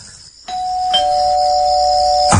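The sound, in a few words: doorbell ringing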